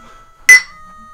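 A beer glass gives a single sharp, ringing clink that rises out of near silence and fades quickly.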